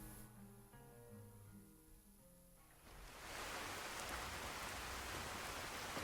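Rainstorm in Skyrim with the True Storms mod: a quiet musical passage with sustained tones gives way to a sudden, loud, steady roar of heavy rain that keeps on to the end.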